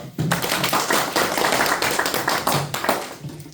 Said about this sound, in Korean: 참석하신 동지들의 큰 박수로 시작하겠습니다